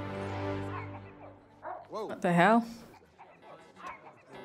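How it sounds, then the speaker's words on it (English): A dog in the movie Tron: Legacy barks and whimpers, with rising yelping cries in the middle, heard under a person reacting aloud. "It's just a random dog."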